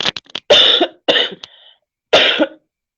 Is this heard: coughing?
yes